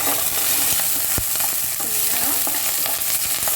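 Curry leaves, added alongside black sesame seeds, sauté in a hot pan with loud crackling sizzle and scraping stirs, close and steady throughout with no talking.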